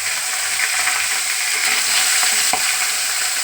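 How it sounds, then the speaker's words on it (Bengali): Tilapia fish fries in hot oil in a wok, giving a steady, close, crackling sizzle with a sharp pop or scrape partway through and no talk. "এইবার মাছটা ভাজা হবে"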